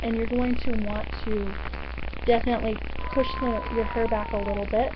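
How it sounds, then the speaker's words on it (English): A cat yowls at night to be let out, giving repeated drawn-out, wavering cries in the background while someone speaks over them, all under a steady low electrical hum. "Excuse the yelling cat."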